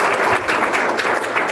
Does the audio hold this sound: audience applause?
yes